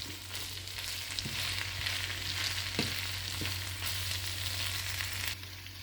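Minced beef fries in a pan, a steady close sizzle with a few scraping knocks as it is stirred, under a low constant hum.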